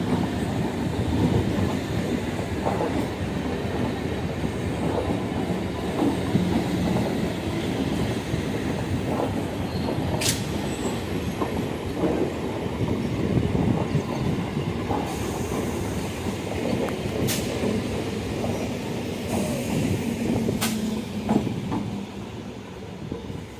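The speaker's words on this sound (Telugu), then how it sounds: "ఇప్పుడు సికింద్రాబాద్కి ఈ ఎంఎంటీఎస్ ట్రైన్స్ మాత్రం పోతున్నాయి" An MMTS suburban train runs through Dayanand Nagar railway station toward Secunderabad, a steady loud rumble of wheels on track with rhythmic clacks and a few sharp metallic squeals, continuous throughout.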